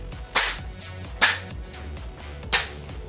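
A CO2 magazine is slammed into a Tippmann M4 BB gun, three sharp, loud smacks spaced roughly a second apart with quiet handling noise between them.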